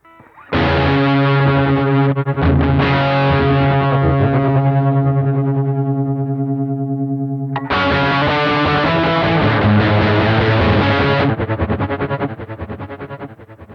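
Heavily distorted electric guitar chords through a Beetronics effects pedal ring out loud and sustained, with a pause and a new chord midway through.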